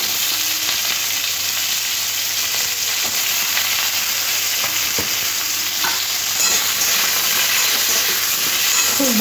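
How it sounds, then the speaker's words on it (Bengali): Potatoes, ridge gourd and beans fry together with five-spice in a hot pan, making a loud, steady close sizzle and hiss with occasional stirring clinks and a faint low hum underneath. "খুব ভালো করে একসাথে সবজিগুলো ভেজে নিতে হবে।"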